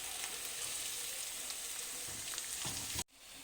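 Finely chopped ginger and garlic with carrot, beetroot, capsicum and cabbage frying in a pan, a steady dense sizzle close up that cuts off abruptly at the end.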